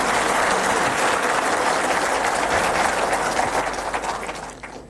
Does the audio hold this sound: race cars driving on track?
no